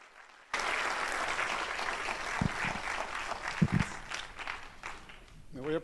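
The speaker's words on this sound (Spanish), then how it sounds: "les pido un fuerte aplauso para que nos acompañe nuestro amigo, el doctor Ranulfo Romo" At a lecture at Chapingo, an audience welcomes Dr. Ranulfo Romo with clapping that starts abruptly after a brief quiet, a moderate, steady crowd applause with a few louder knocks and voices rising near the end.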